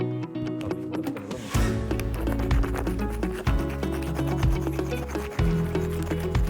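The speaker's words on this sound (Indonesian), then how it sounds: "itulah tadi bunyi angkrek ketika bewok goresin pakai kunci" A metal key scrapes across the body of a budget realme C11 smartphone in a rough, rasping scratch. Several repeated strokes with heavier thuds between them sound close and fairly quiet, and no one speaks.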